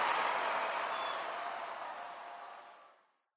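Round of applause sound effect, a full crowd clapping loudly and evenly on its own, then tapering off smoothly into silence.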